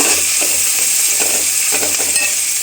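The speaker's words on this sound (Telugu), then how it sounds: "కొంచెం కలర్ మారాక చామాకు కూడా వేసుకొని కలపాలండి, వేపుకోవాలి." Colocasia leaves frying and being stirred in a pan for a potato and colocasia leaf curry: a steady close sizzle with the repeated scrape and shuffle of stirring, no talking.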